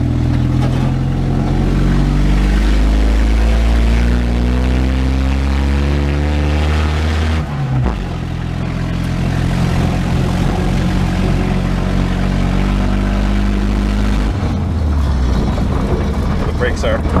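A mini truck engine with a broken, popping muffler runs loud and close, a heavy droning exhaust with rising and falling pitch, uneven pops and a rough throb.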